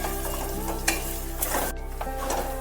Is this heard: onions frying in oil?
yes